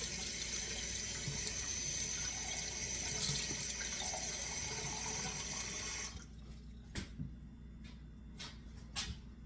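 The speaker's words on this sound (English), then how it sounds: "Make sure it's cold water and put it in the bowl." Cold water runs steadily from a tap into a bowl for several seconds, then stops, leaving a few light clinks and drips.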